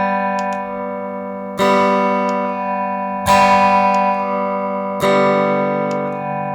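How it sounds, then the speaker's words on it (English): Sustained electric guitar chords run through an Eventide Rose delay pedal with phase-reversed repeats, struck three times at even intervals, each attack ringing into a dense shimmering tail, with no talk. "it reverses the phase of the repeats"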